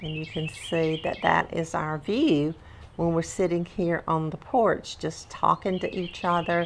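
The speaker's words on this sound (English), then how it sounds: "listening to the birds chirp" Birds chirp in a back yard seen from a porch, small high calls scattered softly under steady talking close by.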